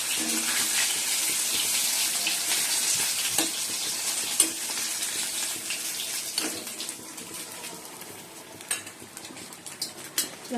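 Chicken pieces sizzle steadily in a frying pan alongside a simmering chicken curry, with stirring scrapes, utensil clinks and a few sharp ticks over continuous hiss; no voices.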